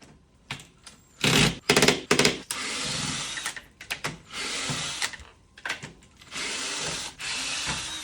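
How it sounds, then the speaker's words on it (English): A power drill whirring in repeated short bursts, stopping and starting as small screws are backed out of a deer sled, close and loud with brief pauses between runs. "right here, I'm just removing all those little screws"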